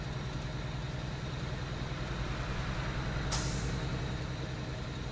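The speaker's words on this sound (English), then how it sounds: "The truck's got its own sound of all the hydraulics and all that stuff going on." Truck in the video game Alaskan Road Truckers, a steady low idling engine drone with hydraulic hum, then a single sharp hiss of air brake release midway, with no talk.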